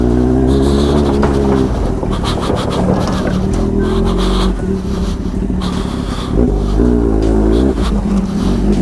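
A Kawasaki Z800 motorcycle rides along with a steady, loud engine drone and rising revs, heard close up over continuous wind rush.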